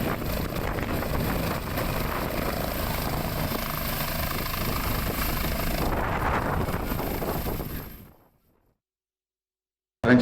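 An evacuation helicopter from a rescue operation after a police chief's helicopter crash in Jambi drones loudly and steadily with wind noise on the microphone, then cuts abruptly to silence near the end.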